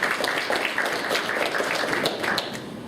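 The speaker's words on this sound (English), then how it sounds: "I'd like to again have a big round of applause, please, for our panelists and for the ambassador" An audience applauds panelists and an ambassador at a panel event on Cyprus and the EU presidency, a dense, steady wash of clapping from a large room that stays even throughout.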